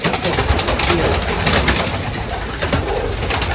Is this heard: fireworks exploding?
no